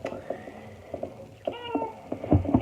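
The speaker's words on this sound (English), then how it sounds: "my cat wants to be in the video" A house cat meows several times, short and close, in an indoor home setting, with light rustling between the calls.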